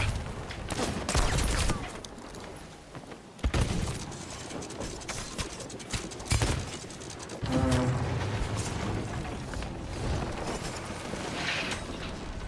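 Ship cannons firing in the pirate game Sea of Thieves, several heavy booming blasts spread irregularly across the stretch, with clattering and ambient game noise between shots.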